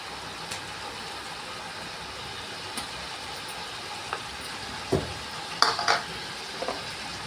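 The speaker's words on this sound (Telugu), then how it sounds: "ఇప్పుడు ఒకసారి ఇదంతా కలుపుకొని అల్లం పేస్ట్ వేసుకుందాం." Soft stirring and scraping in a large pot as ginger garlic paste is mixed into a big batch of chicken biryani, with a low sizzle underneath and a few louder utensil knocks.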